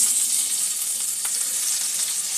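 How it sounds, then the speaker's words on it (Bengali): Chopped onion, grated ginger and garlic sizzle in hot oil in a pan, a loud, steady close-up hiss with little variation and a faint stir or two partway through. "পেঁয়াজ আদা রসুন একটু ভেজে নেব।"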